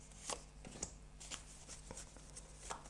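Tarot cards shuffled and drawn by hand for a reading: soft, close riffling and slapping card sounds in quick irregular bursts, quiet, with no talk over them.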